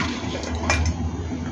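Water and pork ribs being poured into a large cooking pot, a loud, close splashing pour with a brief knock of the contents against the pot midway.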